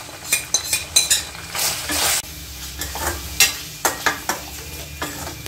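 Mutton being stirred in a pan with black pepper and garam masala, a spoon scraping and clinking against the metal in repeated strokes over a steady close sizzle, with one louder burst of frying midway.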